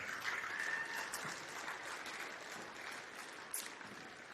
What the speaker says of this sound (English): So a huge round of applause for all of our athletes.